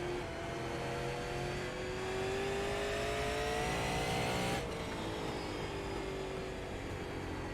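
Racing car engine in a sim racing game, driven around a warm-up lap to heat the tires, with a steady loud drone whose pitch climbs through a gear and drops at a shift, then climbs again; no talking.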